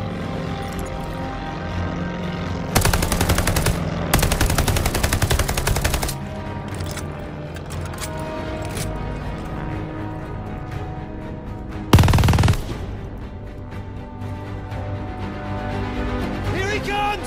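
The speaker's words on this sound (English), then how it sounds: "Machine guns!" Sustained machine-gun fire crackles through a Call of Duty Vanguard battle in North Africa at Tobruk, with dense bursts around the middle and a sharp blast later, over a steady rumble of combat ambience and engine drone.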